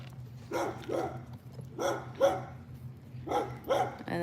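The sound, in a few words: dog barking during a walk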